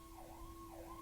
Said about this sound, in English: That's a siren we've never heard before